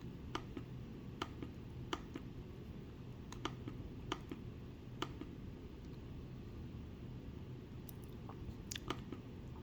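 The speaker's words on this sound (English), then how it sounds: "So let's one more time right click" Sharp, dry computer mouse clicks, with several single and double taps spaced irregularly over a steady low background hum.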